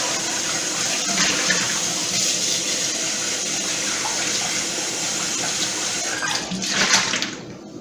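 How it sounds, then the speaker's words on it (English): Running water rinses out a cooking pot in a sink, a steady close splashing rush that swells near the end before the flow cuts off abruptly, with no talk. "I'm going to rinse this pot out because I'm going to use this pan again for the next broth."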